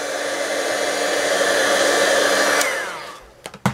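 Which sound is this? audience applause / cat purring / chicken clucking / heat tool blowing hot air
heat tool blowing hot air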